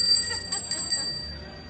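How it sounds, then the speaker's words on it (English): A magician rings a small hand bell at a Hollywood Studios show, giving several bright, close metallic rings in quick succession with a sustained shimmering tone fading out after the last strike. "When I ring my magic bell, that's when the magic happens."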